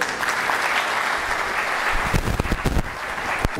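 Audience applause welcoming the Belgian ambassador at a Belgian economic mission event in the DR Congo, a steady roomful of clapping with a few louder, nearer claps and thumps standing out toward the end.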